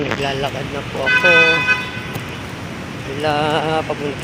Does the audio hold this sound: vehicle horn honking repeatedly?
yes